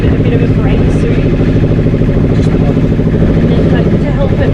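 A sailboat's engine, running with no impeller, drones loud and steady at high revs, a continuous close mechanical rumble with a faint rattle and no pause.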